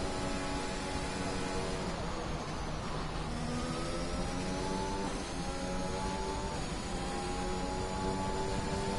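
A McLaren Formula 1 car on a flying lap at Monza in an F1 racing game, its engine screaming continuously through gear changes, the pitch dipping and climbing again, loud and sustained with no voices.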